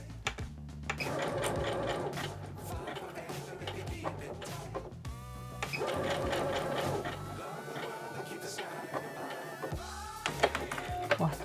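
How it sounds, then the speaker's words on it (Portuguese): Sewing machine running a decorative stitch on a fabric desk organizer, a steady close mechanical whir in long continuous runs with a brief pause between them. "Eu posiciono a minha agulha bem no encontro da minha costurinha aqui do meu ponto decorativo."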